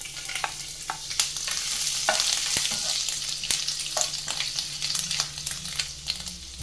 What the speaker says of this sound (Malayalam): നമുക്കിതിലേക്ക് ചെറുതായി അരിഞ്ഞു വെച്ചിരിക്കുന്ന ഇഞ്ചിയും പച്ചമുളകും കൂടെ ചേർത്ത് കൊടുക്കാം.